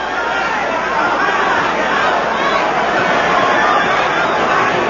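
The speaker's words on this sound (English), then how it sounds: "The Englishman in the crowd chanting, Bruno, Bruno." A boxing crowd at a Frank Bruno fight against Mike Tyson roars in a dense, steady wall of noise, with the chant for Bruno buried in the broad, loud din.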